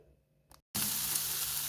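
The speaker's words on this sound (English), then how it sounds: "I'll go in with the cooking oil and add in the onions" Onions hitting hot cooking oil burst into a loud, steady sizzle after a brief silence, following a quieter stretch of low kitchen noise; the frying holds constant and close without any talk.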